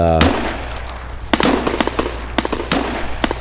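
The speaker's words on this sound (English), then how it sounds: "that gunfire is really just going crazy" Rapid bursts of gunfire in the video game Escape from Tarkov crack repeatedly, sharp irregular shots over a low background hum, with faint talk beneath.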